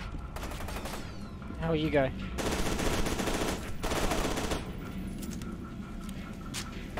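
Sustained automatic gunfire and explosive bursts fill a firefight in the shooter game F.E.A.R. 2, loud and continuous, with a voice talking briefly partway through.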